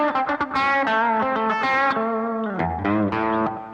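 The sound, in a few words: electric guitar chicken picking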